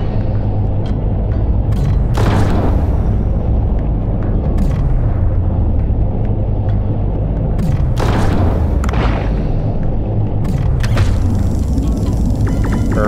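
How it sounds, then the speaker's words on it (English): Underwater gunfire in the video game Dave the Diver as a fish is shot: loud, booming low thumps land in a cluster of about three, each followed by a falling rumble, over a dense, continuous game soundscape. "so we'll shoot him 3 times."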